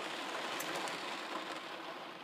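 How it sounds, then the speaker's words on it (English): Steady, dense hiss of rain falling close by, constant and even throughout with no voices. "It's raining, which is unusual."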